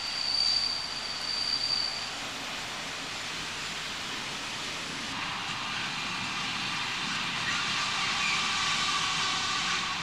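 A train runs along the railway line toward Peak Forest near Manchester, a broad steady rumble and rush of wagons rolling past at moderate distance, building slightly toward the end, with no talk.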